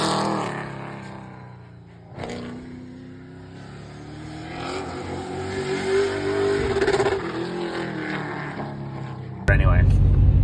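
A crate motor in a car revs on a test run, its engine note rising and swelling steadily before a sudden louder burst near the end, with voices under it.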